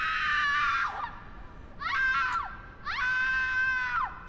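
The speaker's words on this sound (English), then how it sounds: "She gonna scream over here." A woman screams in a horror video game, three long, shrill, sustained screams, each falling in pitch at the end, loud and close with short gaps between them.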